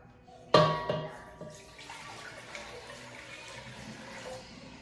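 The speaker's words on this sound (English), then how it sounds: "Now we're gonna add 2 quarts of water to the pot." Two quarts of water pour into a cooking pot with a sudden splash that settles into a softer continuous trickle, close but fairly quiet.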